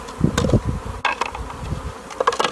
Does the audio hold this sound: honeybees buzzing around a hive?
yes